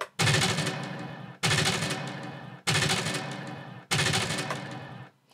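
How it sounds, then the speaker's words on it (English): Simulated machine gun fire played through an RC engine sound system: four rapid, loud bursts of rattling gunfire, each about a second long, separated by short silences, with no talking. "So that's obviously gunfire."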